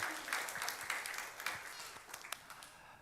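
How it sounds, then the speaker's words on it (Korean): A church congregation applauding, a dense patter of many hands clapping at moderate distance for about three seconds, with some voices mixed in. "하나님께 영광의 박수를 드리겠습니다."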